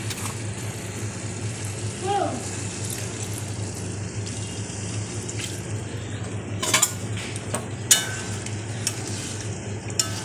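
Water is poured into frying masala for shahi paneer, bringing a low sizzle and bubbling with a few sharp clinks of a utensil against the pan.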